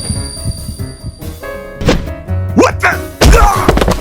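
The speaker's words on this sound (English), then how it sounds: "Cody hits the asphalt with a heavy thump" A body hits asphalt with a heavy, dull thump during a fight in a dubbed woodland horror story episode, among several other thuds, impacts and background music.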